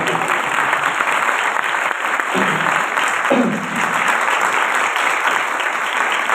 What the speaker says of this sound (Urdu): ٹھنڈے ٹھنڈے ہاتھوں سے زوردار تالی بجا دی۔